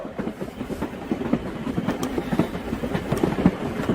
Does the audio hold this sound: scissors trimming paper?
no